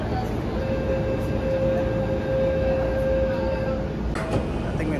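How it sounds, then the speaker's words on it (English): Riding a local train in Japan: a steady, close rumble fills the carriage with a faint tonal whine, and near the end a brief rattle or clunk breaks through. "Sitting on the local train"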